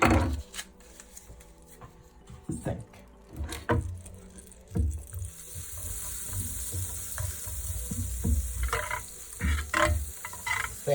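Butter sizzles and crackles in a heated pan for Welsh cakes, a steady frying hiss that grows fuller partway through, with knocks and stirring sounds from the pan.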